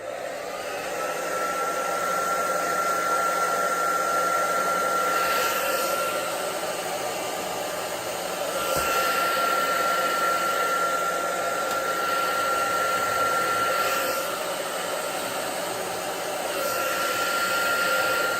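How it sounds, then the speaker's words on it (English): A hair dryer runs steadily on a man's beard, a loud continuous whoosh with a faint high whine, briefly shifting in pitch and level a few times as it moves. "So I've been trying the hair dryer on it."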